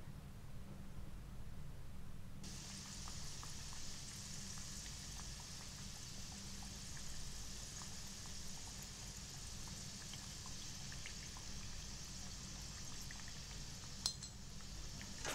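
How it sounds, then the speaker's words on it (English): Pumpkin cakes deep frying in batches in oil heated to 160 degrees, a steady broadband hiss with faint crackles and clinks that begins abruptly and holds evenly throughout, alone without talk. "Add cakes in batches. Deep fry until cooked through."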